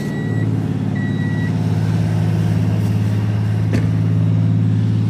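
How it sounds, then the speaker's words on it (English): Honda Acty kei truck idles steadily after a cold start, a loud, even engine drone with a faint high whine and a brief click partway through. "Let's start it up so you can hear. Cold start for it."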